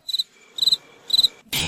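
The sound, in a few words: cricket chirping sound effect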